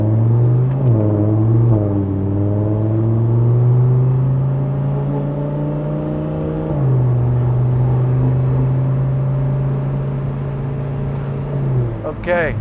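A 2014 Audi R8 V10 supercar accelerates hard through paddle-shifted gears, its engine note climbing and dropping with each upshift in a loud, close, sustained roar heard from inside the cabin.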